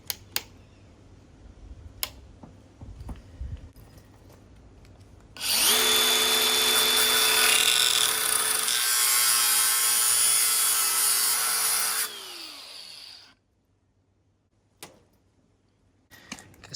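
An angle grinder cuts through the aluminium frame of a Crimsafe screen door. A loud, steady high-pitched whine holds for about seven seconds, then winds down, with light taps and clicks before and after.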